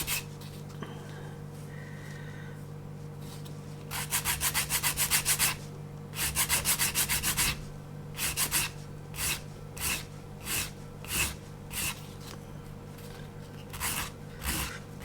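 Rhythmic dry rasping strokes of sanding a small plastic part flat on a 1/24 scale MPC General Lee model kit, close and distinct, first in long bursts then in short regular passes, alone with a faint steady hum behind.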